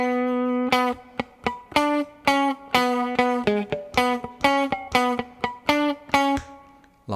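Electric guitar plays a riff, a series of bright, punchy plucked notes and short chord stabs in a quick syncopated rhythm, close and clear with no talking.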